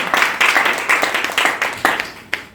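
Congregation at a French-speaking church service clapping to acclaim the Lord, a steady run of brisk, close, rhythmic applause.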